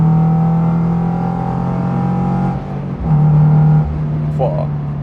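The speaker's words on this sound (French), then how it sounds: "Et là en 4ème j'accélère," Toyota GR86 2023 boxer engine with a metallic-sounding aftermarket exhaust, no turbo, accelerating in fourth gear: a loud steady droning engine note rising in pitch with a brief dip, heard from inside the car while someone talks over it.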